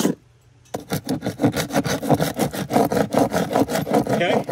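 Paint being scraped off exterior wooden trim by hand, a steady series of rhythmic rasping strokes that starts after a brief silence and continues close and loud.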